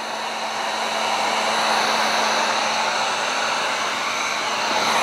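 Steady heat gun blowing hot air over vinyl wrap on a Tesla Model Y, a continuous loud airy rush with a faint tonal hum, holding level throughout with no talking.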